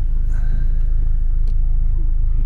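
A Mazda MX-5 idles or creeps forward at a Japanese vehicle inspection station, giving a steady low engine rumble close by, with no speech over it.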